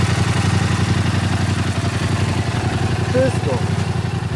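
A Yamaha MT-07 motorcycle fitted with an FMF exhaust idles in a loud, even, low throbbing pulse that stays steady throughout, while a voice speaks briefly over it.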